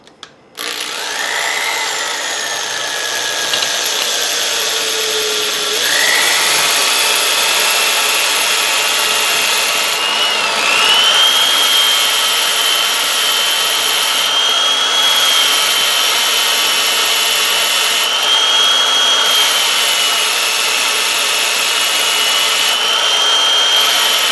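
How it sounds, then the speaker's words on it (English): A power drill whirs loudly and continuously, its pitch shifting a few times as it bites into material while reducing the diameter of a spacer, with no voices. "I put in my drill bit, I'm in my chuck, and then I turn it on."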